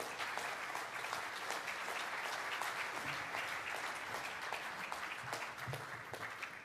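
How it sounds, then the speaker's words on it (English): Sustained audience applause at a conference panel session, a dense, even wash of clapping that holds steady for several seconds with no speech over it. "So if you would please join me and give the panel a great round of applause."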